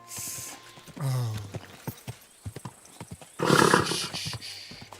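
Horse hooves clop rhythmically and a horse lets out a loud whinny in the video game Kingdom Come: Deliverance II, with game-like sound effects and no voices.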